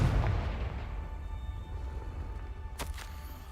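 Confringo blasting spell explosion in a wizarding video game: a heavy boom at the start that fades into a rumbling tail, then a sharp crack near the end.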